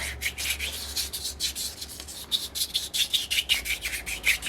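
Fine 600-grit emery cloth rubbed back and forth on a Magnum 65 model engine crankshaft, a close, continuous hissing scrub with a quick, uneven rhythm and no talk.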